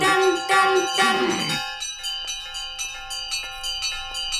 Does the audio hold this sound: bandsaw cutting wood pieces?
no